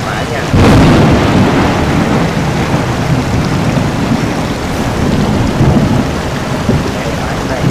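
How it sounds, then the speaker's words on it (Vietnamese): Heavy rain pours steadily with rumbling thunder in the Truck Simulator Ultimate driving game, a loud, constant downpour with a sharp crack near the start that rolls on throughout. "Trời mưa các bạn thấy, trời mưa lạ chả, mưa rất là lớn luôn."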